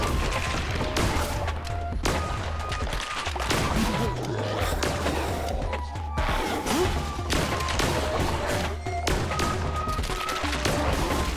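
The Mayhem Cannon fires repeatedly in Cult of the Lamb during a fight with the spider bishop Shamura, a dense barrage of loud blasts and impacts over game music.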